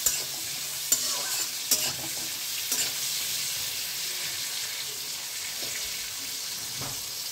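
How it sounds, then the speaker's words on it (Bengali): Eggplant fries in hot oil with a pinch of turmeric, a bright steady sizzle with a few spoon taps and scrapes as the pieces are stirred. "এই সব কিছু দিয়ে বেগুনটাকে ভালোভাবে ভেজে নিতে হবে।"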